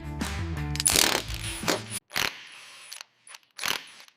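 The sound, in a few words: bolts being tightened on a Buick Grand National GNX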